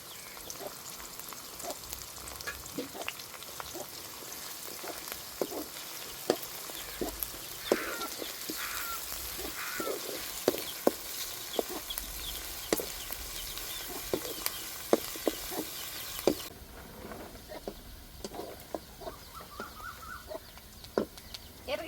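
Curry leaves, dried red chillies and garlic fry in hot oil for pepper chicken, giving a steady low sizzle with scattered small pops and crackles. Faint background sounds come and go, and no one talks.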